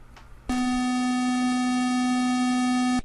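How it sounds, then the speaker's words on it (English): A single steady electronic beep tone from an early-1970s Pong home console, sounding as one long sustained note for about two and a half seconds, loud and alone after a brief faint lead-in. "every home console was a Pong clone, and when video games sounded like this"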